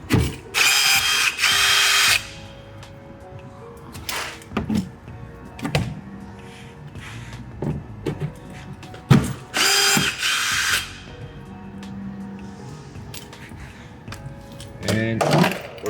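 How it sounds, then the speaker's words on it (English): Power drill boring rivet holes through a 2020+ Corvette C8 composite side rocker panel, using the part as a template: two strong whirring bursts, each about two seconds, close by, with a voice talking and small tool clicks in between. "And we're back to drilling."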